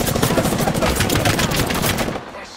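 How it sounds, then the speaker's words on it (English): Rapid automatic gunfire from the video game Apex Legends, dense and loud bursts of shots rattling continuously for about two seconds before cutting off abruptly. "They're shooting at me."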